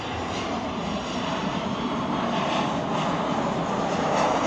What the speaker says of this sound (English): we're going to see the planes come through. Here we go. Another Ryanair.